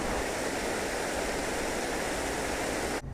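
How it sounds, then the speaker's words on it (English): Water pours steadily over a river weir on a canal, a dense, loud, continuous rushing roar that holds unchanged throughout, cutting off abruptly at the very end. "There's quite a pretty weir here."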